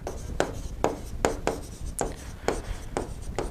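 Chalk or marker writing on a board during an electrical engineering lecture, a series of short scratchy strokes at an uneven rhythm, close and moderately loud, with no talking.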